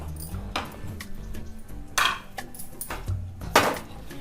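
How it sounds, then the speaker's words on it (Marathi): A utensil stirs gram flour (besan) being dry-roasted in a pan, producing sparse clinks and scrapes against the metal, close and distinct with quiet gaps between strokes. "आता आपल्याला बेसन पीठ भाजायचं आहे ते आधी कोरडं भाजून घ्यायचं आहे"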